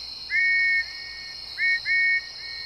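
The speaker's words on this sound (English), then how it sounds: "Lily heard the sound of a train whistle outside her window" A train whistle sounds in steady, clear tones, first one long blast and then two shorter ones, over a constant high whine and light background hiss.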